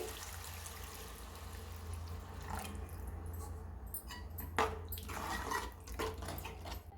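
Water splashes and trickles into a pot of raw mango curry, with a low steady hum underneath and a few sharper pours and splashes toward the end.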